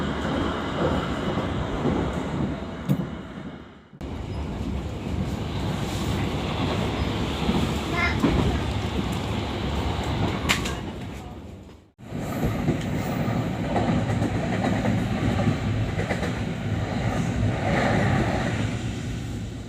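Riding the Matarmaja economy train out of Pasar Senen alongside commuter trains, a constant loud rumble and rhythmic clatter of wheels on rails carries on, briefly dropping away twice before swelling back.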